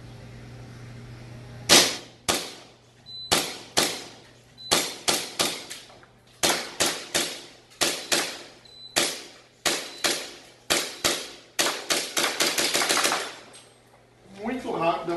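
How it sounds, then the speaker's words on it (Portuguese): Airsoft pistol shots from a hi-capa Dragon pistol crack out one after another, sharp and close, some spaced apart and others in quick bursts, with a faint steady hum underneath. "Vou efetuar alguns disparos com essa que já está pronta para a gente ver."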